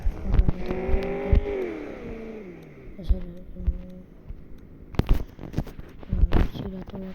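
A car is driven into a garage, its engine revving with harmonic tones that rise and then drop, close by, along with rustling and clattering bursts and some talking in the background.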